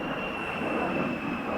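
A low-flying airplane passes overhead with a loud, steady roar and a faint whine running through it, close and sustained throughout with no pauses.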